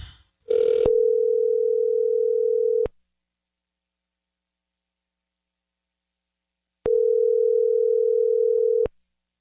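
Two long, steady electronic telephone call tones, each lasting about two seconds and separated by a silent gap, play before a call reaches voicemail.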